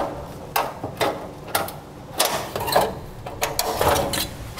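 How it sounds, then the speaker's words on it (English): Tin snips cut along the edge of a car's metal heat shield during a trailer hitch install, giving a run of sharp, irregular metallic snips and crunches, fairly close and with no talk. "use a pair of tin snips,"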